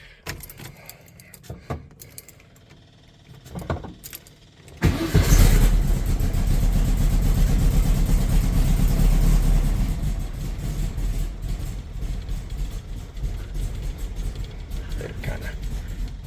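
After some faint rattling and clicks, a 1972 Volkswagen Beetle engine cranks and catches at about five seconds, then keeps running loudly with a steady, throbbing idle.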